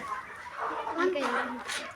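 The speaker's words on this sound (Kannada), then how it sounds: "ನಾಟಿ ಕೋಳಿ ಇದೆ, ಕೆಂಪದಾಗಿದೆ ನೋಡಿ" Country chickens clucking on a poultry farm in Khanapur village, Kalaburagi district, close and mid-level, with people talking over them throughout.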